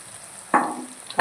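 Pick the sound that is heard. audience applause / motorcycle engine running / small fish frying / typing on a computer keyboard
small fish frying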